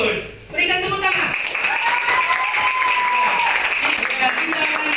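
A classroom of students breaks into steady group applause after a brief spoken prompt, the clapping dense and lively for several seconds with voices faintly mixed in.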